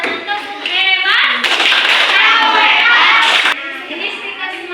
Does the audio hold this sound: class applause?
yes